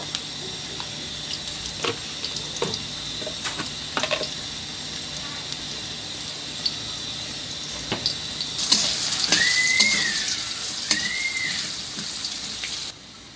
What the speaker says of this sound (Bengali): আলুগুলো আমি একটু হালকা লাল করে ভেজে নিয়েছি